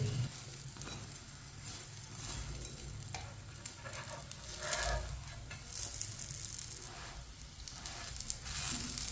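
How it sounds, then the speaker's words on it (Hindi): A paratha cooks on a hot pan, turned and pressed on both sides, giving a steady close sizzle with scraping and shifting noises throughout. "ये वाली साइड से भी आप इसे ऐसे ही घुमाते फिराते दोनों साइडों से अच्छी तरह पका लेंगे।"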